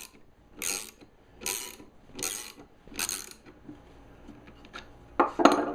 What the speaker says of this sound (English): I'm going to pull the bearing off this side using the Harbor Freight bearing separator.